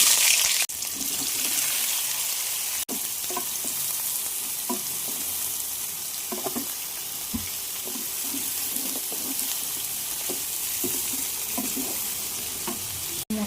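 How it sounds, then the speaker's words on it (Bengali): Food fries in a pan during home cooking, a steady sizzle with scattered crackles and pops running throughout, close and continuous, with faint splashes of water in the background and no talking. "এবার ভেজে নেব।"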